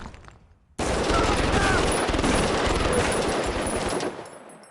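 Sustained automatic gunfire in the prison management game Prison Architect, a dense unbroken roar of rapid shots that starts abruptly after a quiet moment and holds steady for several seconds.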